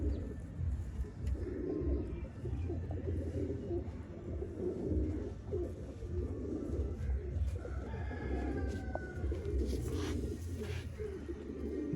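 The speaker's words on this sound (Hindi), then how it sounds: "नेक्स्ट दोस्तों फकीर गुल कबूतर और मादा फकीर गुल दोस्तों कबूतर" Fakir Gul pigeons, a male and female pair, coo in low soft rolling calls against a constant background hum, with brief higher chirps from other birds partway through.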